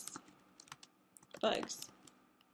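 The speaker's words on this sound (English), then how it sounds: "under the title, I'm going to type Bugs." Computer keyboard keys are typed in a short burst while a title is entered in a PowerPoint slide, the clicks quiet and close with a brief louder cluster in the middle, under faint voice sounds.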